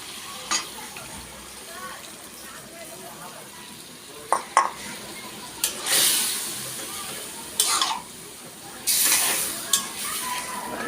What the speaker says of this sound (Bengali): টক দই দিয়ে দিব